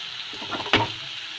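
Fried potatoes dropped into a pan of cooking masala, a soft steady sizzle with one brief scraping clatter as they go in.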